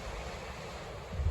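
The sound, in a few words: ocean water at Tasmania's north coast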